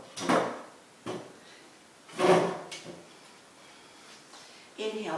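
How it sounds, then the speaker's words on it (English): A chair is dragged and turned on the floor during a chair yoga class, giving a few scraping and knocking bursts spaced apart, fairly close and quiet. "Now, turn the chair where the seat is facing you."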